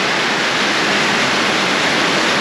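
Heavy summer storm rain pouring down before a sunset trail ride, a dense, loud, unbroken hiss of downpour that holds steady throughout.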